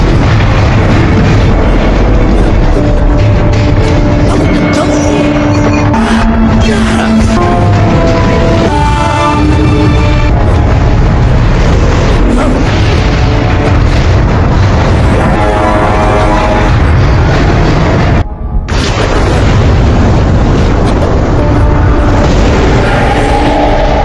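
A heavy explosion in the 2006 film Minotaur, a loud, dense, sustained roar of booming and crashing debris filling the whole stretch, with a brief sudden drop out near the end.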